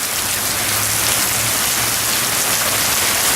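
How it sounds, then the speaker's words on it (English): Steady, heavy Florida rain pouring down, a dense continuous hiss of drops on surfaces, loud and close with no voices. "there's a view of the Florida rain."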